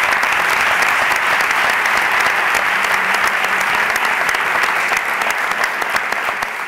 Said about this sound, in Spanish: Yo también querría un aplauso para él.